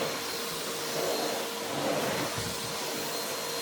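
A vacuum cleaner runs steadily at close range, a continuous broadband whooshing hiss that holds an even level throughout, with no voices over it.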